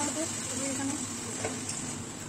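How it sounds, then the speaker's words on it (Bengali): Chopped vegetables and broken black gram lentil bori sauté with salt and turmeric in a pan for spinach ghonto, a steady close sizzle with light stirring while a voice talks over it. "এবার নুন হলুদ দিয়ে আমি একটু সময় নিয়ে কষিয়ে"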